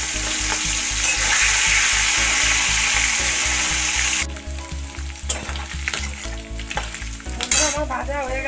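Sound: prawns frying in hot oil in a wok

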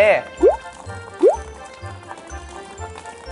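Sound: water being poured into a bucket

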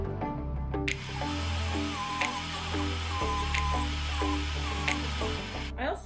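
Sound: sanding silver spoon ring ends on Fordham unitized sanding wheel

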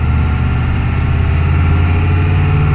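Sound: 7.3 IDI diesel truck with new turbo, heard inside cab

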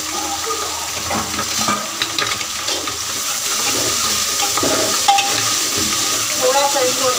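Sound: onion and tomato being sautéed in a pan

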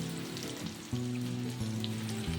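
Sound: chopped onion and garlic frying in oil

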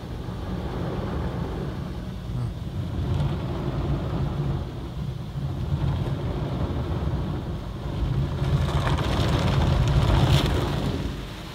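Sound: Ryko Excel car wash tyre scrubbers running

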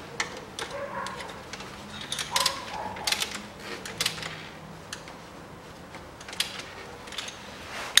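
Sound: tightening a nut with a ratchet on a Ford Ranger engine

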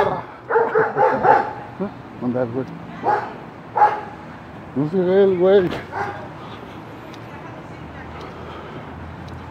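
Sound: dogs barking

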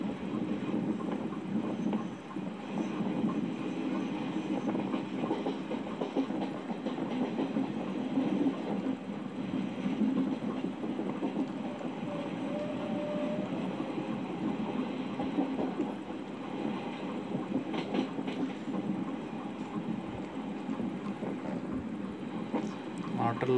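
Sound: train running into Palakollu railway station

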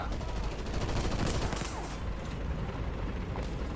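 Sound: gunfire from the video game War Thunder

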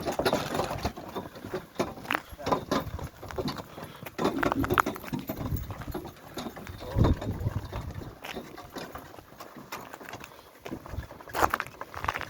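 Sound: horse walking, hooves clopping

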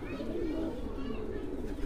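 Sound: Madrasi pigeons cooing

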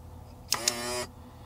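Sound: Drain Master electric waste tank valve operating

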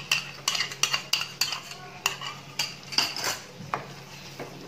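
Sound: stirring yogurt into chicken biryani mixture

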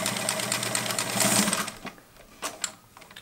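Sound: Kenmore 1752 sewing machine stitching a zigzag bar tack

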